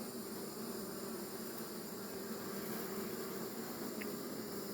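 A steady, dense buzzing hum of a swarm of bees fills the air, constant and moderately loud with a faint background hiss.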